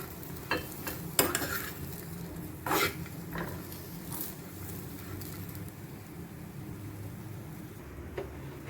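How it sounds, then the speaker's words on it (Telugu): Dates and raisins roasting in ghee in a pan for dry fruit laddu, a soft steady sizzle under occasional sharp scrapes and stirs of a spoon against the pan. "నెక్స్ట్ రోస్ట్ చేసేది మనము డేట్స్ అండ్ కిస్మిస్ అన్నీ కూడా రోస్ట్ చేసేద్దాం."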